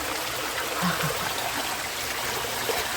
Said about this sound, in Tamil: தண்ணி இப்படி கீழே வருது